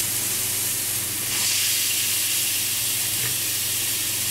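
Wild boar saddle loin searing in a hot frying pan, giving a steady, close, loud sizzle and hiss that holds throughout with no talking.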